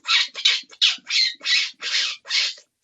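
A person imitates a wounded bird with seven sharp, raspy squawks in a quick, uneven series, loud and close with brief gaps between them.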